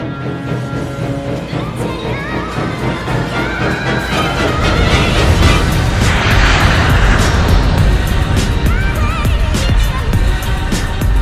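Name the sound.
airliner engines at max thrust, Southwest Airlines flight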